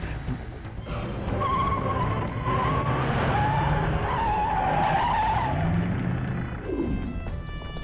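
Car tires squealing and skidding as a car slows during a chase scene in a dubbed South Indian action film, a loud, drawn-out screech lasting several seconds with engine roar beneath, then fading.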